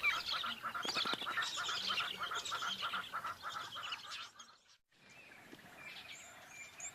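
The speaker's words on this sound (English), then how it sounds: "It's a little bird feeding party." Small birds feed near resting lions on the African savanna, giving a busy, close chorus of chattering and squawking calls that overlap and then thin out into fainter calls after a brief drop.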